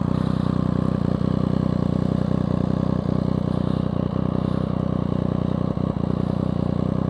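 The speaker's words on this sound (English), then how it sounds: "I know you're not all in favour of that loud pipe." A motorcycle fitted with a loud aftermarket exhaust pipe on a Sunday morning ride, its engine droning steadily and loudly close by with a few faint rattles and knocks throughout.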